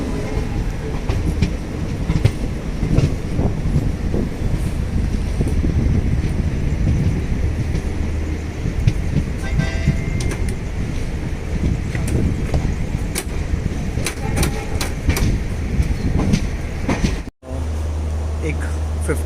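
A Garib Rath Express of Indian Railways runs on the Secunderabad to Visakhapatnam route, giving a steady, close rumble of wheels on rails with faint clickety-clack, continuous throughout apart from a brief dropout near the end.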